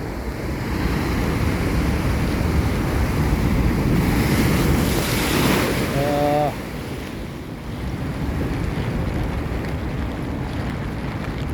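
Sea waves surge and wash ashore in a broad, continuous roar, buffeted by wind noise, with a brief tonal call partway through.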